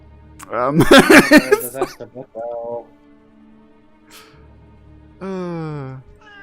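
A small pet cat in World of Warcraft: Shadowlands, in the Revendreth zone, gives a couple of short tonal meows after a burst of talking, the last one longer and clearer, with quiet game ambience between.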